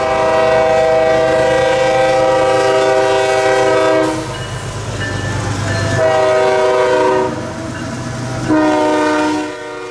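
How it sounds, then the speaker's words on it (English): A freight train races past at about 70 mph, its horn sounding in long, loud blasts over the rumble and clatter of the railcars, close and continuous throughout. "the trains are flying by you at upwards of 70 miles an hour"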